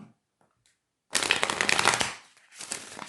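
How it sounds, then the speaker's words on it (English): A deck of cards is riffle-shuffled up close, a fast crisp fluttering burst followed by a second shorter shuffle after a brief pause. "I'm going to shuffle a little bit."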